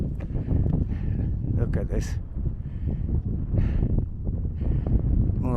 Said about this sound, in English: But it's so windy, so windy.